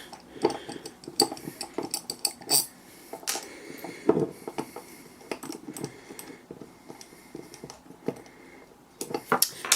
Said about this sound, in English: Just undo the screws.